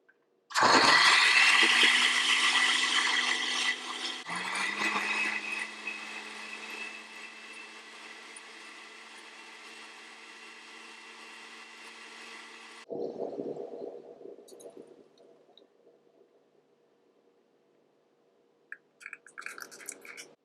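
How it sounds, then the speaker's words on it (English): A blender whirs loudly for about twelve seconds blending green mint chutney with yogurt, salt and water, its motor pitch steady, then cuts off, leaving faint clatter and quiet rustling. "Cover and blend everything together."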